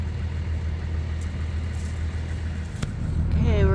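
A tractor engine idles on a sheep farm, a steady low rumble heard from inside the cab, with a brief knock near the end and a rising whine as the revs lift slightly.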